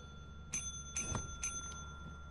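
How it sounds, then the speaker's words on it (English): Bell in the video game Lethal Company rung three times at roughly half-second intervals, each strike a bright ringing tone over a steady low background hum, fairly faint. "I think you can do your ringing it as much as you like."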